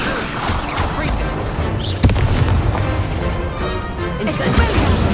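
An Incendio fire spell effect in a wizard game: dense, rumbling bursts of fiery booms roll on continuously at close range, with a voice talking in the mix.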